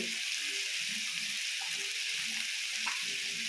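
Cinnamon sticks and cloves go into a hot pan for a country-style mutton sambar and sizzle steadily, a soft, even frying hiss with a few faint clinks.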